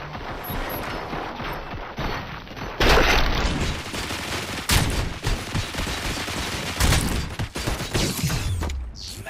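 Sustained gunfire in RoboCop: Rogue City, a dense fusillade of rapid shots with mechanical clatter and louder bursts near 3, 5 and 7 seconds, continuous and close throughout.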